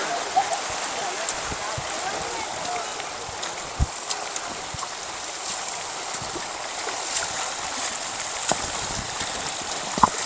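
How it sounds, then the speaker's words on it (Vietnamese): Heavy rain falls on a makeshift shelter at a camp during a storm, a continuous hiss with scattered sharp drip taps, while voices murmur faintly underneath. "Mưa to ấy, lạnh ấy nhỉ."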